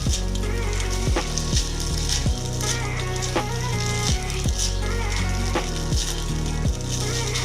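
Fried rice with bacon and egg warming in a pan over low heat, a steady close sizzle and crackle with repeated scraping pushes of a utensil at a loose, roughly one-second rhythm.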